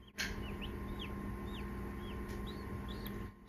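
Newly hatching chicks inside an incubator give a handful of faint, high peeping chirps spaced out over the steady hum of the incubator fan.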